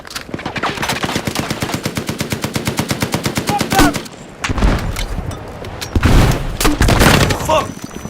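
Rapid machine gun bursts from the video game Battlefield 6, a long close stream of evenly spaced shots followed by scattered gunfire and louder impacts, with voices in between.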